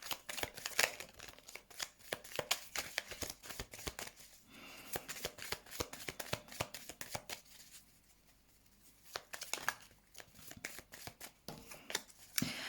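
Tarot cards are shuffled by hand during a French card reading, a long run of quick papery riffles and flicks with a brief quieter pause midway before the shuffling resumes.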